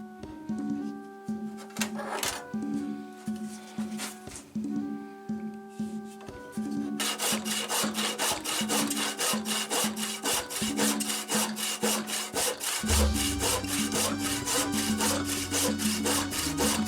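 Steady rhythmic sawing and rasping on oak while shaping the palm swell of a kindling mallet, strokes close and loud, growing denser and continuous partway through.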